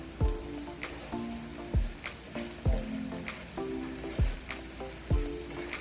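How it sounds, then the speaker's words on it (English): Butter sizzles on a hot grill griddle with apples, a steady crackling fry punctuated by about six sharp scraping taps of a utensil moving the fruit around, no voices. "once you start putting the butter on the grill,"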